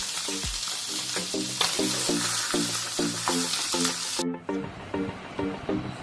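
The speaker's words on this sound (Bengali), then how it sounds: "আপনারা স্ক্রিনে দেখতে পাচ্ছেন আমি মাছটা হালকা গোল্ডেন ব্রাউন করে ভেজে নিয়েছি।" Taki fish frying in hot oil in a pan, a steady close crackling sizzle with rapid popping throughout, the spatter briefly easing toward the end.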